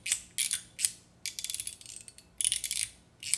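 A compact, thin-profile fidget toy from a travel collection gives off bursts of crisp, sharp mechanical clicks in quick ratcheting runs, separated by short pauses, close and fairly quiet with no talking.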